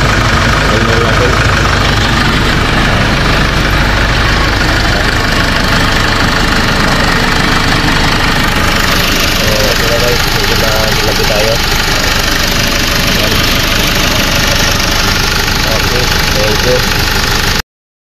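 A Kia Bongo with a noisy D4CB diesel engine idles with a steady, rough clatter, loud and close throughout, while someone talks over it.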